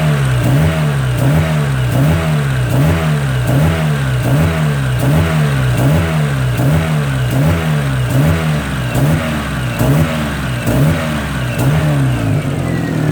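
A Mazda MX3 engine, being set up for track use and running with a fuel problem, is held at steady throttle, its note surging and dipping in a regular rhythmic hunt throughout, loud and close with no one speaking.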